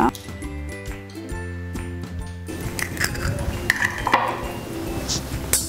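Whisk clinking rapidly against a bowl while beating egg with wet ingredients for chocolate cupcake batter, preceded by a few metallic clinks and heard with background music.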